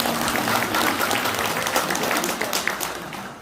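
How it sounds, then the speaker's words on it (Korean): An audience claps in welcome for a speaker at a book launch event in Sejong, a dense, steady burst of applause from a crowded hall that tapers slightly toward the end. "여러분 박수로 환영해 주시기 바랍니다."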